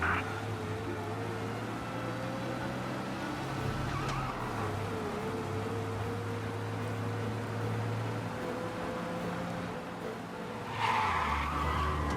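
A steady car engine drone runs throughout, with a brief tire screech near the end, fast driving in the video game Mafia.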